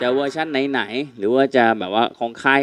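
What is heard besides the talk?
No everyday noises stand out.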